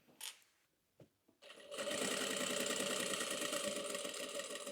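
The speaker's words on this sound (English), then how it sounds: "So I'm sewing from that side so that I don't accidentally miss, and I'm grabbing both sides." A sewing machine stitches the pocket panels of a fabric tote bag, starting after a few soft handling clicks and then running in a close, steady, rapid mechanical whir until the end.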